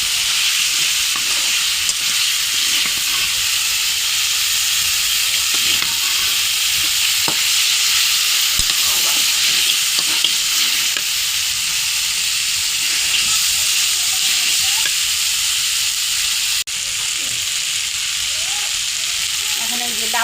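A spice paste sautéing in a pan, ahead of bottle gourd and taki fish being added: a loud, continuous close-up hiss and sizzle with faint stirring clicks running through it.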